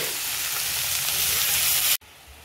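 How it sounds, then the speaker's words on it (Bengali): Fish and vegetable chorchori sautéing in a pan gives a loud, steady broadband sizzle that runs for about two seconds and then cuts off abruptly, leaving near silence. "চচ্চড়ি কষানো হচ্ছে।"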